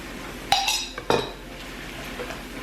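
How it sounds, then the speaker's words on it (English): A spoon scrapes and clinks against a pan on a gas stove as harissa is stirred in with pork tenderloin, chickpeas and peppers, giving two sharp metallic knocks followed by softer scraping. "Give that a nice stir."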